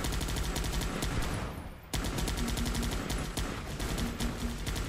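Rapid bursts of troop gunfire in the video game Guns Up!, dense crackling volleys and machine-gun rattles that pause briefly before resuming loud and continuous.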